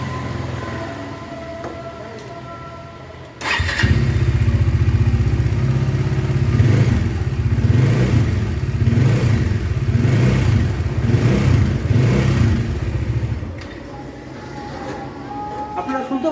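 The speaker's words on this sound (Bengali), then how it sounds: "তো এই গাড়িতে একটি খারাপ সাউন্ড বেরোচ্ছে, খুব হালকা একটা খারাপ সাউন্ড বেরোচ্ছে।" Bajaj Dominar 400 BS4 motorcycle engine idling steadily up close with a faint abnormal noise, running loud and continuous after starting, with a few rhythmic surges before settling lower.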